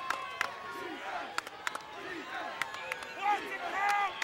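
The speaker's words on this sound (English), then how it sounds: "Bangor crowd starting to pick things up and trying to get a fourth down stand here" Crowd noise from Bangor fans in the stands at a Maine high school football game, a faint, distant rumble of cheering with scattered claps and shouts, rising briefly near the end under a commentator's voice.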